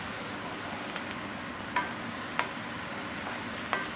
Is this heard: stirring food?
yes